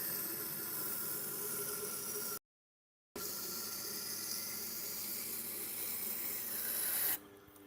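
A chef knife being sharpened at the shoulder, giving a steady close grinding rasp that stops briefly for a moment and then resumes before cutting out near the end.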